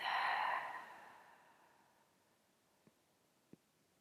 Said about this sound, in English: Exhale slowly through your mouth